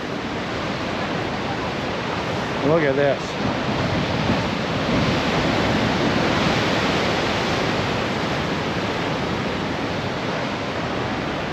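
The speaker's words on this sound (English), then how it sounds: "You can hear the roar of the ocean here." A steady, broadband roar of ocean surf in Japan fills the whole clip, with a brief spoken remark near the start.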